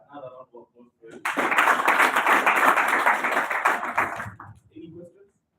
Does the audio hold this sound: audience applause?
yes